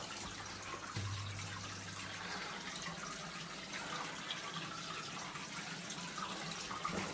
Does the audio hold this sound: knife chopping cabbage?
no